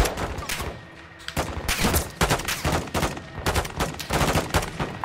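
Heavy gunfire in the Modern Warfare 2 campaign, with rapid bursts and repeated loud cracks through a dense, chaotic mix of close shots, no voices over it.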